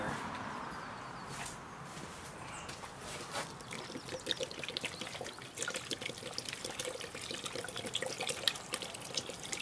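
Plaster slurry pouring into a Bigfoot footprint cast mold, a steady wet trickle and splatter with small drips, close and continuous with no talk.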